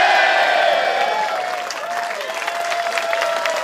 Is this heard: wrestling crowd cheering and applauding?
yes